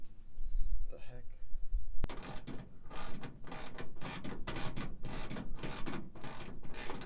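A ratchet tightens a clamp onto PVC pipe on a truck, giving a quick run of loud, repeated mechanical clicks close by after a brief quieter lead-in.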